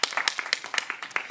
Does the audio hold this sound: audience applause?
yes